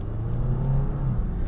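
A 2010 Lexus IS 250 with about 200,000 miles drones steadily from inside the cabin while driving, its engine holding a gear with a low, even hum and no talk over it.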